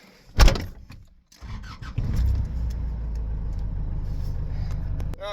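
An old car's engine cranks after a sharp click, catches and settles into a steady low idle rumble for several seconds, with no one speaking.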